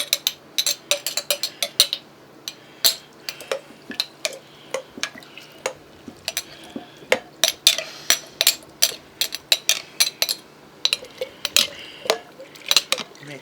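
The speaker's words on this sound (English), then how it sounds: "I'm gonna stir it a little bit so the onions get mixed and make sure it's covered." A spoon clinks and scrapes repeatedly against a jar as pickled narwhal maktaaq and onions are stirred in liquid, giving sharp, irregular knocks at close range with no talk.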